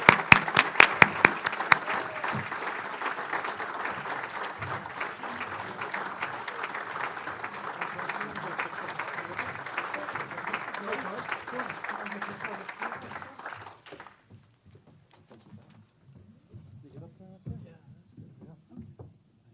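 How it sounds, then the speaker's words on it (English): Audience applause at a Rotary Club meeting, a dense, steady clapping from a room of people lasting about thirteen seconds before stopping abruptly, followed by quiet room sounds and faint movement. "Let's give him a round of applause"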